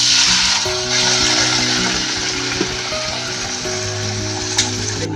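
Sweet potato leaves sizzle loudly as they hit a pan of sautéed garlic and onion, a steady bright frying hiss with occasional stirring clicks, close and continuous throughout.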